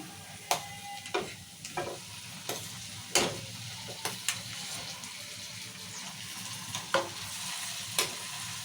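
Tomatoes fry in hot oil alongside chillies and onions for a bottle gourd curry, giving a continuous sizzle punctuated by sharp spatula scrapes and clicks at close range, with no talking.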